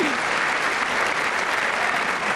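Sustained audience applause fills the space, a steady, dense wash of many hands clapping without a break, loud and even throughout.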